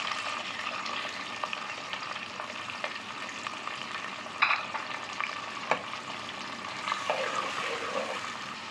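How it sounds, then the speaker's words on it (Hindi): Sliced onions frying in half a cup of hot oil for chicken biryani, a steady close sizzle with occasional stirring clinks and scrapes, no voices. "आधा कप मैंने ऑयल डाला है और इसमें मैं सारी प्याज डाल दूँगी"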